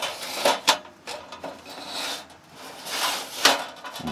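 A drawer slides back into an M Stove 3 camping stove stand, paired with a Camping Together Cassiopeia wall. Close, short scraping and rubbing strokes come in a few separate bursts, with light knocks between them.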